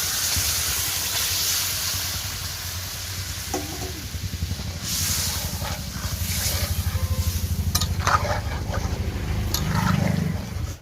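Curry with tomato and ground dried chilli fries in a pan, with a soft sizzle under rhythmic scraping and stirring strokes, plus brief wet splashes near the end.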